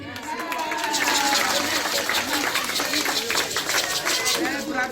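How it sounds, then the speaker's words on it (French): Audience applauding the chief at a school ceremony marking the end of works at a nursery school in Gbagba, Bingerville; steady, dense clapping fills the whole stretch at moderate loudness with crowd murmur and a voice mixed in. "On applaudit pour le chef."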